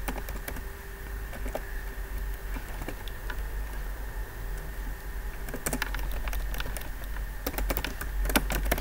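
Python code being typed on a computer keyboard, with quick irregular key clicks in bursts and a few louder presses near the end, close and steady throughout.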